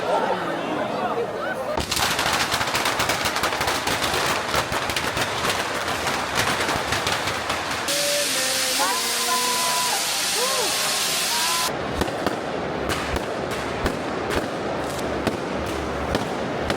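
Mascletà firecrackers and fireworks at the Fallas festival in Valencia: dense, continuous rapid-fire cracking and booming bursts, loud and near, with a crowd audible beneath and a brief lull of whistling rockets midway.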